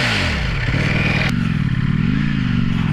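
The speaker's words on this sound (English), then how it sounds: "I can't believe I'm riding a V4 right now." A 2019 Ducati Panigale V4 sport bike accelerates under its rider, the engine note rising and shifting with a gear change midway, loud and close against rushing wind.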